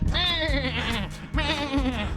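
Goat bleating in the Albanian town of Kruje, two loud, close wavering calls in quick succession.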